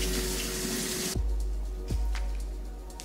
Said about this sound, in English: we're gonna go rinse it real quick